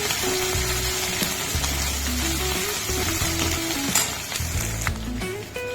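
Green chillies and peanuts sizzling steadily in hot oil for sabudana khichdi, a continuous close frying hiss with a few light scrapes.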